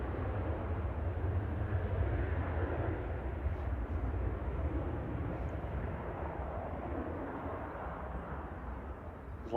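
An aircraft with a hydraulic issue lands at Manchester Airport, heard as a steady broad engine roar at moderate distance holding for the full length, no voices.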